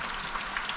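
Walleye fries in butter in a frying pan, a dense, steady sizzle with fine crackling pops, close and continuous for a brief moment.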